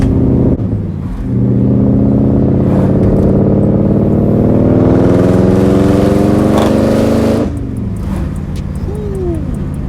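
A BMW 540i E39 with a freshly replaced lower oil pan runs on the road, its engine droning steadily and loudly with rising pitch as it accelerates, then easing off near the end.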